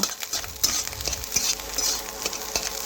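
Fish roe stirs and sizzles in a frying pan, a close, steady crackle of hot oil broken by repeated scrapes and taps of a spatula against the pan.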